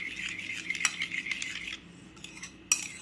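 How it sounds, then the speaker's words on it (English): A spoon stirs a curd mixture with sugar and chopped coriander in a bowl, giving close, rapid scraping clinks and wet swishes that come in quick bursts, pause briefly, then return with a sharp knock. "let's give it a good mix"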